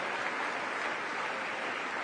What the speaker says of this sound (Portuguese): Você pode dar um aplauso ao Senhor Jesus?